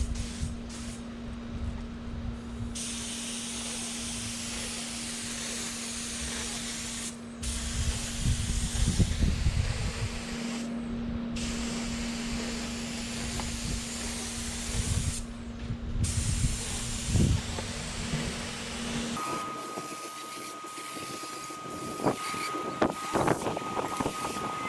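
Paint spray gun set at 50 psi spraying flake paint onto a Chevrolet Astro van, a steady loud hiss running nearly continuously with brief pauses between passes.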